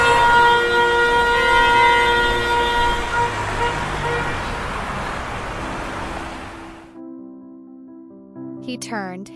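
Car horns honk repeatedly and overlap amid loud, dense Paris city traffic, sustained tones layered over road noise before the din drops abruptly to quieter lingering tones near the end.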